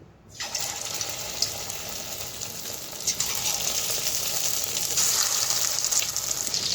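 Chicken pieces dropped one by one into hot oil for chili chicken, a loud, steady sizzle that flares up on each addition and keeps hissing and crackling close by without pause.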